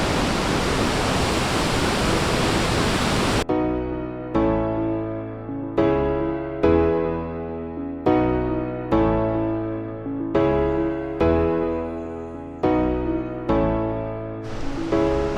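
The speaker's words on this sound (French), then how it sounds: "on a ces fameuses cascades que pour nous, c'est génial" Waterfall cascades roar as a steady, loud, broadband rush for about three seconds. The sound then cuts abruptly to rhythmic music with repeating chords.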